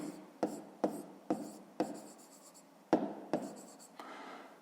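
Pen or pencil writing by hand on paper while working a fifth-grade maths exercise, with a series of sharp scratchy strokes at a steady rhythm, close up and fairly quiet, with no talking.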